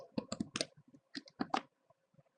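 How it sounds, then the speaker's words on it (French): Typing a file name on a computer keyboard: a close, quick run of crisp key clicks in short bursts, with a brief pause before the last light taps. "Je tape fichier compressé."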